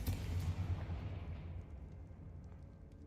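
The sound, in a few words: Confringo spell blast in Hogwarts Legacy (video game)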